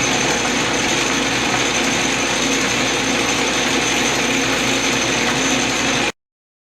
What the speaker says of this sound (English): I'm going to drill close as I can get to 12 millimeters